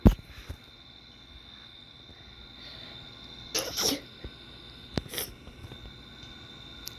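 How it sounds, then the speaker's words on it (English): A single sharp human sneeze bursts out near the start, followed by a few quieter breathy bursts and clicks against a faint, otherwise still room. "I just sneezed."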